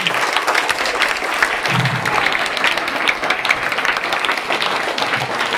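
A seated crowd at a school sports-uniform distribution event claps for the village elders, dense and loud continuous applause throughout.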